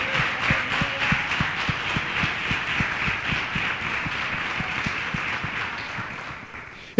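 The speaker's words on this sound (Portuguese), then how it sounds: "Você pode aplaudir ao Senhor?" A church congregation claps along to a steady rhythmic beat, with regular low thumps under a wash of hand claps, fairly distant and even throughout, fading slightly toward the end.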